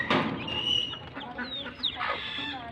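A hen clucking among her chicks, with low clucks mixed with the chicks' thin high peeping chirps, close and fairly quiet.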